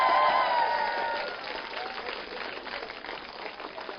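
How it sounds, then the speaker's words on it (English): Applause from a live audience at a children's birthday singalong during an author's talk, a dense burst of clapping that starts strong and eases slightly while continuing steadily. "And a big round of applause"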